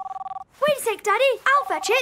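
A mobile phone rings in a coat pocket with a quick run of electronic trills, then a voice speaks over the fading ring.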